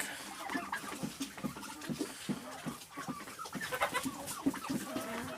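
A farm hen clucks in short repeated bursts at close range, with other farmyard sounds in the background and no talking.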